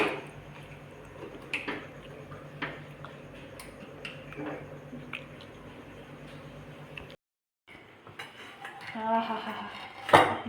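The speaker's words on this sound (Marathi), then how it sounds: "आता कुकरचं झाकण लावून" A metal pressure-cooker lid is fitted onto the cooker holding home-style Marathi khichdi. Clanks and cutlery-like rattles sound over a low kitchen hum, then a brief silence, then louder close clatter.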